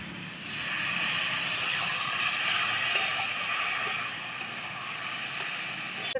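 Water poured into a pan of cooking papaya and lentil curry sets off a steady, moderately loud hiss and sizzle that runs for several seconds, with a couple of small pops.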